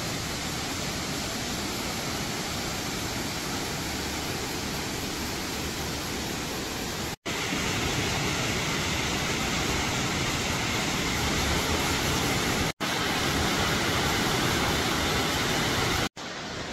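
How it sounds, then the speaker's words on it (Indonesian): Tumpak Sewu waterfall roars as a steady, dense broadband rush of falling water, loud and continuous throughout with no voices over it. "jadi saat ini Om Bro sedang berada di panorama air terjun Tumpak Sewu"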